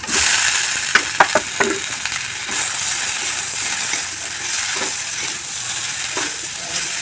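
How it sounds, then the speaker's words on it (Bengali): Potato pieces fry in spiced oil in a pan, giving a steady loud sizzle with a few sharp clinks and scrapes from stirring early on, and no talking. "আমি আলুটাকে দিয়ে দেবো আলুটাকে দিয়ে বেশিক্ষণ আড়াতে হবে না হালকা একটু ফ্রাই করে নিয়েই হয়ে যাবে"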